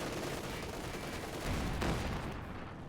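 Rapid gunfire and explosive battle noise from Company of Heroes 2 rattle in a dense, continuous barrage, with a swell partway through as a grenade blast hits.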